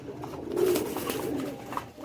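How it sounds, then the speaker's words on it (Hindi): Caged striped cross-breed pigeons coo softly at close range, a low rolling burble that swells and fades, with a faint higher chirp near the end. "ये पट्टी वाले क्रॉस कबूतर हैं"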